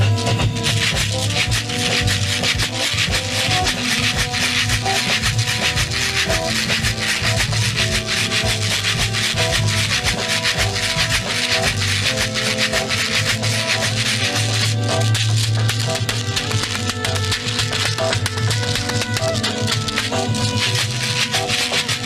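A chequeré (shekere) gourd shaker in a samba school setting rasps and rattles continuously in a dense, steady rhythm, loud and close, mixed with other tonal percussion throughout.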